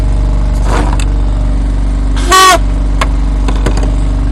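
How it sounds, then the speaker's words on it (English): One short, loud, piercing foghorn blast from a boat stands out over a steady engine drone, with a few fainter tonal sounds before and after. "I've also got a foghorn. It makes a lot of noise."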